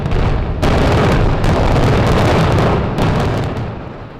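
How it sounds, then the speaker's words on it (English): Explosive demolition of the 13-story Warren Hall administration building, a continuous loud roar of blasts and collapsing debris with a few sharper bursts, sustained and dense throughout. "With a series of quick blasts, the Warren Hall Administration Building came tumbling down."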